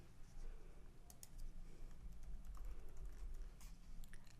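Quiet typing on a computer keyboard, a short burst of soft clicks over a low hum in a room, faint and close.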